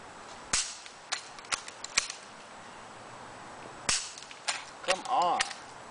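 Handgun shots fired outdoors at close range, several sharp sharp cracks spaced irregularly across a few seconds, with voices talking between shots.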